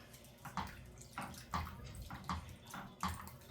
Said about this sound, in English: I could add a little bit of water to that